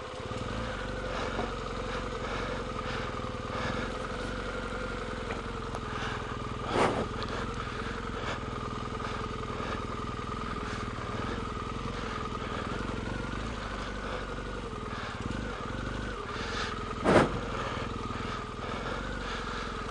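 A motorcycle engine runs continuously with a steady droning hum over twenty seconds, and two brief louder bumps rise out of the drone.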